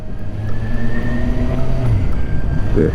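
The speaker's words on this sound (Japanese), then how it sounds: "スタートしてから ある一定の速度に上がるまでのこのエンジンの音ですね" A motorcycle ridden by a former police motorcycle officer pulls away in low gear, its engine note climbing steadily as it gains speed, loud and continuous with a faint rising whine and no talk.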